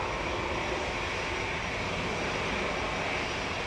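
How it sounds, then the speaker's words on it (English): An EasyJet jet airliner bound for Malta takes off from Manchester Airport, a steady, broad roar of engines heard from a distance down the runway, continuous and unbroken with no voices. "we've got the EasyJet 2273 to Malta just departing in the background there"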